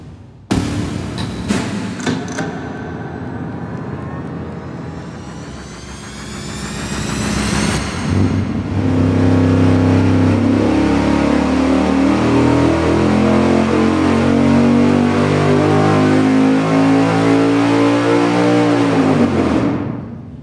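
A V8 on an engine dyno making a baseline pull: after a few short blips it idles, then surges into a long, loud, steadily rising full-throttle run to about 5,300 RPM before cutting off sharply near the end.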